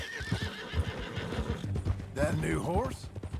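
A horse neighs in Red Dead Redemption 2, a wavering whinny near the end rising over steady hoof clip-clops, with people talking throughout.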